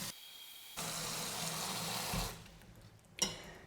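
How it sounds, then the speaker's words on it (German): Cold water from a tap pouring into a salad spinner bowl holding plums, a steady hissing stream for about two seconds that stops, followed by a short splash, close and fairly quiet. "Also einfach nur kaltes Wasser drauf füllen."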